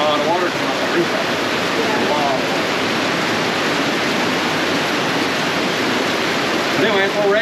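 Rainwater streams off a roof in a dense, unbroken roar, close and loud, while someone speaks quietly underneath the continuous wash of water.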